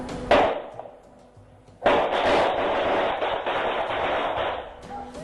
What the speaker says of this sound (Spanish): Puso una bocina con sonido de disparos y se salvó de un robo piraña